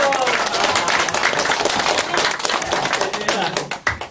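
An audience at a lecture event claps in a brisk, dense burst of applause that tapers off toward the end, with a voice speaking over it.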